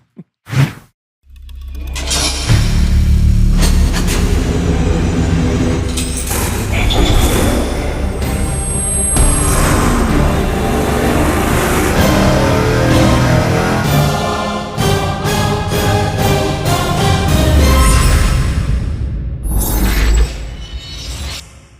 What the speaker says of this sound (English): Here is the poor, innocent big block Chevy that we are going to attempt to strangle with mufflers.